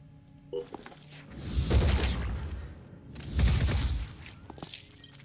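Two sustained, rumbling bursts from an acid assault rifle in Phoenix Point sound a moment apart, each a dense crackling volley that swells and fades. A faint click comes before them.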